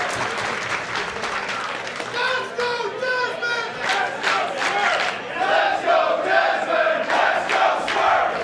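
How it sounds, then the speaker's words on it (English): Wrestling crowd at a PWG show chants and claps in rhythm, a dense roar of many voices swelling steadily across the arena after an exchange in the ring. "Definitely getting a respectful mutual chant going from all these competitors here."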